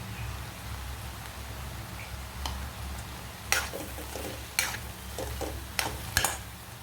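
A vegetable filling with chili flakes and salt sizzles softly in a pan for rice paper dumplings, with a low steady fry and several sharp scraping clicks of a spatula stirring near the end.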